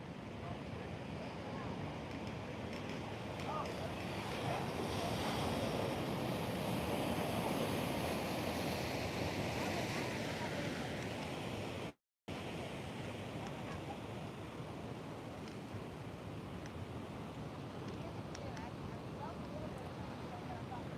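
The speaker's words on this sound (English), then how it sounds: "I'm hoping they can get some good waves in today" Ocean surf at Nags Head on the Outer Banks, with swell rolling in before a hurricane, roars steadily with wind noise over the microphone. A brief dropout breaks the sound midway.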